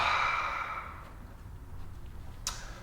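A person lets out a long, breathy exhale during a breathing meditation, starting close and fairly strong and fading to quiet, with a brief faint click near the end.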